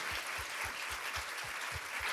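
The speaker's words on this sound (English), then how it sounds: "can we give Melissa a round of applause?" An audience gives a round of applause, dense steady clapping with a low rhythmic thumping beat running beneath it.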